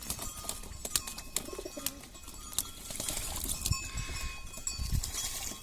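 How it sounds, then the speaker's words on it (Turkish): Cowbells on cows clank and jingle irregularly outdoors, with birds calling in the background. "İneklerimiz de Şakır şakır şakır şakır. Nasıl ses yapıyorlar bakar mısınız? Çanları"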